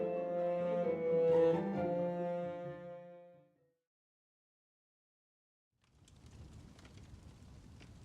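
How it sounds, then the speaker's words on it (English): Soft rain ambience: a gentle, broadband patter of rain fading in after a long sustained tonal drone and a few seconds of silence, with no clear thunder. "The rain fell softly against the ancient windows of Hogwarts, creating a gentle, rhythmic patter"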